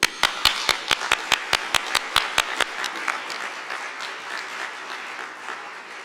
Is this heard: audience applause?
yes